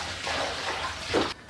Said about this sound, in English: I'll just dump this out and start over.